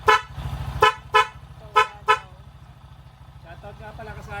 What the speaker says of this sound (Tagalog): Normal busina natin.